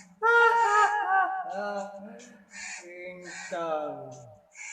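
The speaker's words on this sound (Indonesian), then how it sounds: "Ringtone burung gagak." A crow-cawing ringtone from a spooky night-ghost ringtone collection plays close and clear, with several harsh harmonic caws in quick succession and a brief break partway through.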